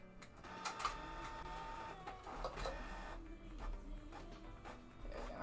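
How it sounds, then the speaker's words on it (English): A home desktop printer runs through a print job low on ink, giving a faint continuous mechanical whir with repeated soft clicks and feed noises. "Ooh, you can hear it printing."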